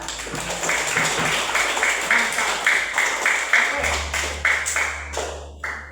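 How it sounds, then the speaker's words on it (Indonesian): Classroom applause for a teacher-training lesson, a rhythmic patter of hands mixed with a steady hum and distinct taps, with brief speech over the clapping. "kita tepuk tangan untuk kita"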